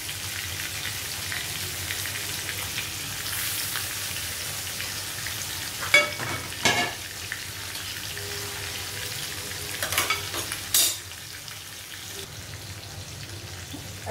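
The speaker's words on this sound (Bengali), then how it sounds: "মাছ ভাজিটা কমপ্লিট হয়ে যাচ্ছে" Hilsa fish frying in a pan gives a steady, close sizzle throughout, with a few brief clatters of a utensil stirring or moving the pieces.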